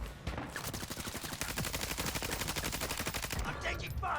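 Rapid automatic gunfire in Warzone 2, a dense, steady stream of loud shots lasting several seconds, with a voice briefly audible at the start and end.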